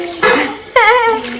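Water splashes in two quick pours into a clay-coated cooking pot, each gush loud and close, with a brief pause between them.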